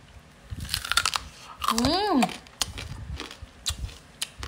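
Crispy fried pork knuckle is bitten and chewed up close with loud, irregular crunches, and a voice exclaims briefly in the middle.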